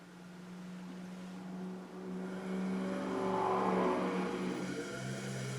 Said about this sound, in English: Very nice running drive.